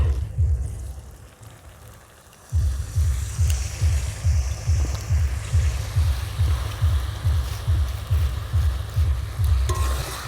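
Frying masala for a mutton curry in a pan, a quieter sizzle that suddenly swells into a loud, dense bubbling hiss after a splash of water, continuing with a steady rhythmic pulsing boil.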